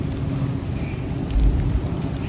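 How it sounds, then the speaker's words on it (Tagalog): Rain falls steadily in a cemetery at night, a soft continuous patter with low rumbling underneath and a high steady whine throughout, no talking. "Yan guys, umuulan ngayon."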